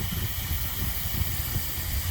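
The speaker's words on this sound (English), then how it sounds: "the heater core hose ended up breaking on my truck and it blew out steam and coolant and just everything everywhere" Steam hisses steadily from a burst heater core hose on a broken-down truck, a continuous broadband rush over a low engine rumble, fairly loud and close with no talking.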